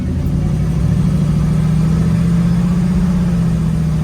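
A 1951 Chevrolet cruising along a road, its engine giving a steady, loud low drone that holds even and unbroken for about four seconds, with road rumble underneath and no voices.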